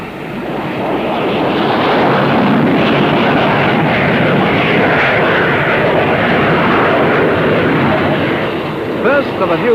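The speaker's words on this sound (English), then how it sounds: "First of a new breed of aircraft, the P-1127, powered by a vectored-thrust turbofan engine, shows its paces" A P-1127 vectored-thrust turbofan jet flies at the Farnborough air show, a loud, continuous roaring engine wash that swells and holds for several seconds, with a brief voice near the end.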